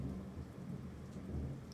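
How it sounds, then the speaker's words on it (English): Steady rain falls with low rolling thunder rumbling through a storm, a continuous close wash of drops and deep swells that rise and fade, with no voices. "As long as you're distracted by this storm."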